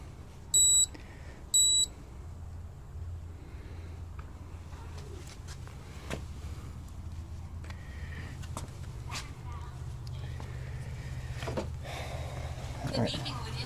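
Two short electronic beeps from a device powering down sound early on, evenly spaced and clear above a low steady hum, with a dog scratching and people talking.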